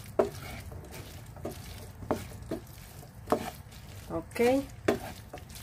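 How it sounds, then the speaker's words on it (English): Chickpeas get stirred in a cooking pot amid a quiet background sizzle, with repeated knocks and scrapes of a spoon against the pot at an uneven rhythm; a voice speaks briefly. "And I will stir it."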